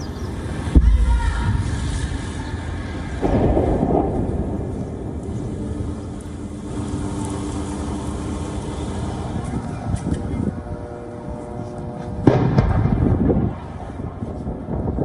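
An explosion in a residential area of Gaza City sends out sharp blasts and deep rumbling booms, with wind buffeting the microphone and voices speaking between the loud bursts.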